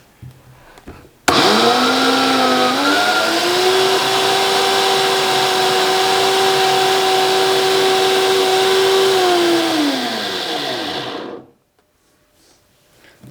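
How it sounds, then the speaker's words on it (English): Kitchen blender grinding sugar for donuts, starting abruptly, its motor revving up and then holding a loud steady whine for about ten seconds before winding down and stopping. "I'll just blend this and use it for my donut"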